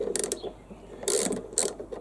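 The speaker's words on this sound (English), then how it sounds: "I'll loosen that nut off." A 10mm socket wrench ratchets in three short bursts while loosening the nut on a starter solenoid during a HYM530SPE starter solenoid replacement, close and clear with quiet pauses between.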